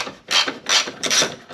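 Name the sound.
unscrewing 10 millimeter headlight bolt on GTO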